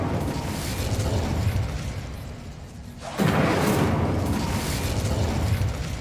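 A fire spell, Incendio, is cast in the video game Hogwarts Legacy. It starts as a sudden loud whooshing burst of flame that roars on steadily, with no talk over it.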